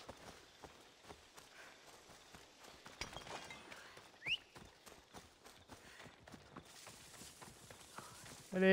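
Rapid hoofbeats of a galloping horse in Assassin's Creed Odyssey over a muffled background, fairly quiet and steady, ending with a sudden louder burst.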